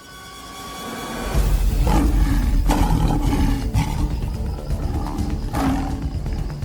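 A lioness charges on the Serengeti, her heavy rumbling roars loud and close, rising in repeated deep surges with bursts of scuffling, no voices present.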